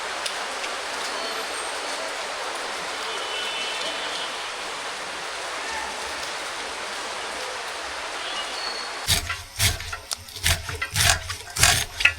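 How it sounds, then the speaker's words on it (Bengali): Rain falling during a storm, heard as a steady, even hiss for most of the stretch before sharper, louder knocks and clatters break in near the end. "এই ঝড়ে বৃষ্টি এসে হচ্ছে।"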